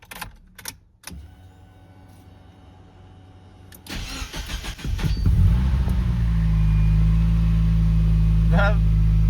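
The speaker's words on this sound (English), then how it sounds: "we'll start the car, see what is the difference in the sound" A few clicks and brief sounds, then a Mazda Miata engine with a homemade turbo manifold and TD04 turbo cranks and catches, settling into a steady, loud idle rumble.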